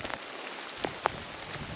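Rain falls outdoors in harsh, soaking conditions, a steady hiss of drops striking surfaces with a few sharper splats scattered through; fairly faint and continuous, with no talking.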